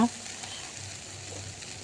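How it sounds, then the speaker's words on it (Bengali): Potatoes fry in hot oil while being stirred, a continuous close sizzle with soft scraping after an initial knock. "একটু একটু করে নাড়াচাড়া করে নিয়ে তারপরে ভেজে নিচ্ছি"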